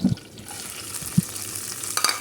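Chopped onion, garlic and chili hit hot oil in a pan, giving a steady close sizzle with a few sharp pops and stirring clatter, no voices.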